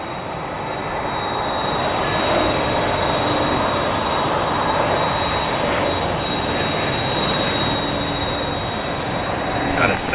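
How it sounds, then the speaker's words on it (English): A Delta Airbus A321neo arrives at Seattle with a steady jet roar and a high engine whine, swelling slightly midway and staying loud and close throughout. "There it is, our Delta A321neo coming in from Kalahalui."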